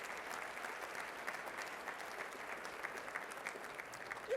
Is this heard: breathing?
no